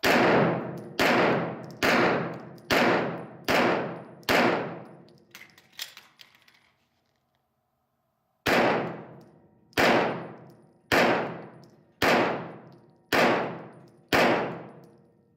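Handgun shots fired with the support hand only during a North Dakota concealed weapons permit shooting proficiency test: a string of loud, sharp reports at a steady rhythm, a pause of a few seconds, then another evenly spaced string.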